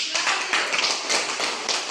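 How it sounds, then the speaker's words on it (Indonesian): A school class applauds a hydrophyte study group, with dense, steady clapping from many hands filling the short stretch at close range. "berikan tepuk tangan untuk kelompok hidrofit"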